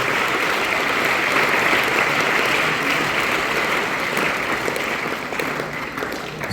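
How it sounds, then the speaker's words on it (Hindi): An audience at a national children's science exhibition in India breaks into loud, dense applause. The thick clapping holds steady, then thins and fades a little toward the end. "मैं एक बार सभी से रिक्वेस्ट करता हूं जोरदार ताली के बीच सबका अभिनंदन करें"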